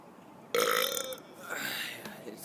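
A loud, drawn-out human burp opens abruptly after a quiet moment, followed by a second rougher belch that trails off into a short exhale, all from a man recording close to the microphone.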